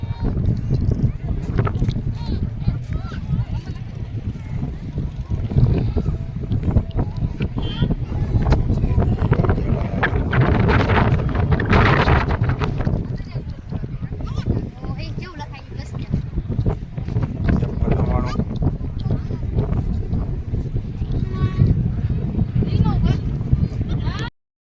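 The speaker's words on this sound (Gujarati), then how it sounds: "દરિયો" Loud wind buffets the microphone over a constant roar of the sea on the shore, gusting unevenly with muffled voices mixed in.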